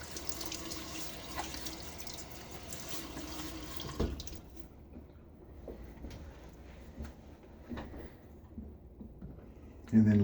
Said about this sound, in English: throw some water on my face